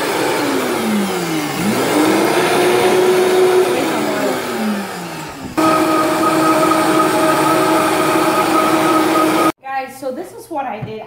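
A Vitamix blender grinds toasted wrewre, its motor whining and shifting pitch as the load changes before cutting out abruptly near the end; brief voice-like sounds follow.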